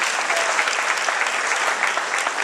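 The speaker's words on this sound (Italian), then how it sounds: "Facciamo un grande applauso all'assessore regionale Roberto Marcato." A live audience at a public event applauds a regional councillor, dense steady clapping filling the whole stretch without pause, loud and close.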